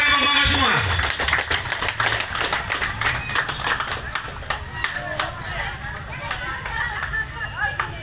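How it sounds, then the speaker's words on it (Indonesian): Villagers at a homecoming celebration clap their hands in a sustained round of loud, crisp claps, with voices and crowd chatter mixed in. "Kita tepuk tangan Mama semua."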